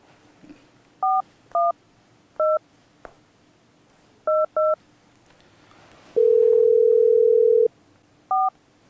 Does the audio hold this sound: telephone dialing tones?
yes